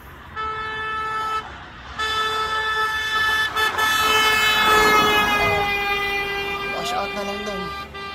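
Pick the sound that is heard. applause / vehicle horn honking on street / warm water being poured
vehicle horn honking on street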